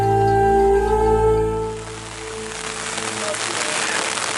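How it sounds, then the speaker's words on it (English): Rain falls on a walking path to Ginkaku-ji temple in Japan. A tonal hum fades out early, leaving a steady, fairly loud hiss of rainfall that grows denser. "the rain intensified a little bit"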